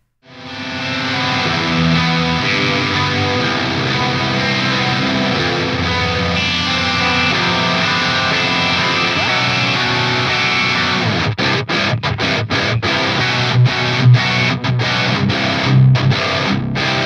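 A high-gain electric guitar plays distorted riffs through a tubeless amplifier. The dense, saturated chugging runs continuously, then breaks into staccato stops and palm-muted hits near the end, with no talk.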